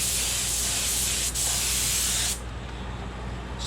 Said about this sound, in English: when we spray our white on here, it'll give a nice definition to that